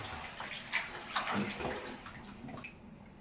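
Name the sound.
water draining from bathtub after rinsing blinds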